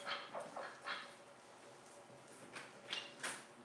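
A dog gives several faint, high whimpers and whines in short, irregular bursts at a distance, with quiet gaps between them in a calm indoor setting.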